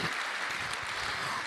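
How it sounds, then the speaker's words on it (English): Brief burst of audience applause at a charity comedy breakfast, a steady clatter of many hands, moderately quiet and unbroken. "Round of applause for Gabrielle and for Josh if they're helping out"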